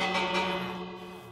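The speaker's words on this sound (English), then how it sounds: "Let me ring the bell and then lock them in a house" Minecraft village bell struck once in a hardcore world, a single bright metallic ring with a sustained, slowly fading shimmer of overtones, heard close and alone.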